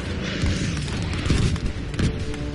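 A loud, close artillery shell blast in Battlefield V, a dense booming roar with a couple of heavier thumps rising from the sustained rumble, no talk over it.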